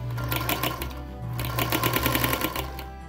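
A sewing machine fitted with a ruffler foot sews a ruffle, its needle hammering in a fast, steady mechanical rhythm, close and loud, with a brief change in pace midway.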